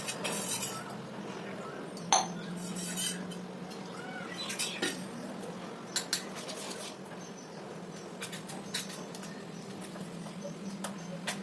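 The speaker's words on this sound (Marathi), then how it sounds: "मिश्रण छान ढवळून घेतलं" A utensil scrapes and clinks against a bowl while a chilli, ginger and garlic paste mixture is stirred, producing soft irregular taps and scrapes over a low steady room hum.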